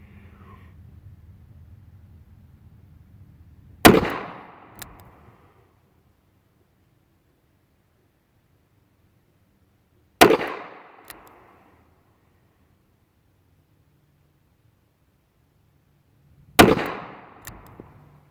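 Three loud, sharp Smith & Wesson Model 10-5 revolver shots fired outdoors at a target, each followed by a short decaying report, spaced about six seconds apart with quiet between.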